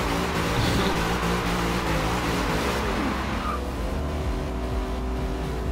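A car engine in a drifting video game revs hard and steadily during a burnout attempt on street or race tires, the pitch rising and falling with a brief tire-squeal edge, loud and close with no talking.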